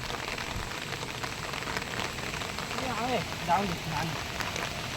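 Heavy first monsoon rain patters steadily on surfaces nearby, a dense continuous hiss with faint voices rising briefly underneath.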